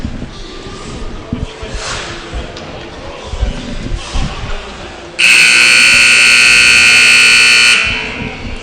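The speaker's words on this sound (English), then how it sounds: "that's the buzzer" At a high school varsity ice hockey game, Des Moines Oak Leafs against Cedar Rapids, a loud arena buzzer blares steadily for about two and a half seconds over crowd murmur before fading out.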